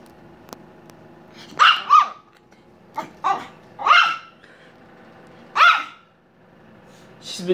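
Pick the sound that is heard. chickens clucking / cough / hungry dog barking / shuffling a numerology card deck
hungry dog barking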